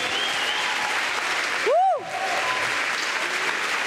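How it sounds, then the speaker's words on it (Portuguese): A church congregation applauds during a worship service. Dense, steady clapping runs throughout, and a brief rising vocal cry breaks through in the middle. "aplauda o Senhor."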